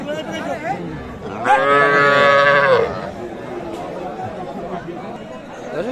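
Cows at a busy livestock market moo in a loud, drawn-out call near the middle, heard over steady crowd chatter and nearby talking.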